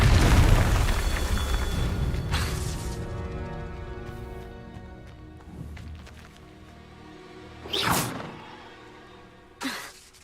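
Confringo fire-blast spell exploding in Hogwarts Legacy, a loud burst at the start trailing into a rumble, followed by two sharper bangs a few seconds apart over game music.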